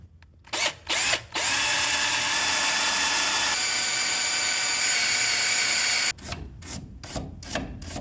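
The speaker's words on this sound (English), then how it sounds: "And then I can drill a good pilot hole for my air hammer bit." A few short bursts of a power drill spin up, then a steady high-pitched whine drilling a pilot hole into a rivet on a 1994 Chevy K1500's front suspension runs for several seconds before stuttering into choppy pulses.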